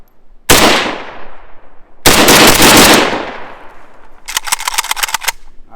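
A PSAK-47 rifle fires outdoors in loud, close bursts: two long rapid strings of shots followed by a crisp series of individual cracks.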